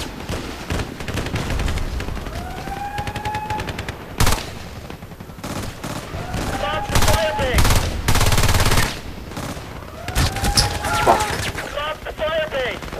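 Gunfire rattles in Battlefield Play4Free, with bursts of automatic fire and single shots recurring across a busy battlefield, punctuated by louder blasts and rising whistling effects, while a player's voice comes through at times.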